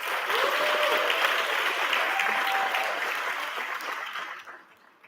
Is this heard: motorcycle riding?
no